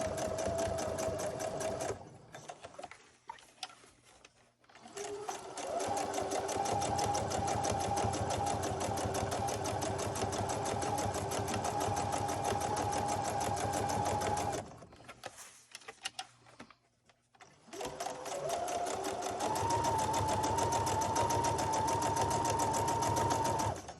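A sewing machine stitches close to the edge of a cloth face mask, running in three steady, continuous bursts with short pauses between them, fairly close and alone.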